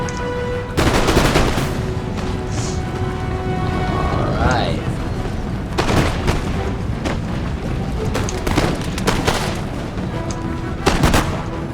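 Musket and cannon fire in an Empire: Total War battle, dense crackling volleys and booming shots recurring throughout under steady battlefield noise, with voices talking over it.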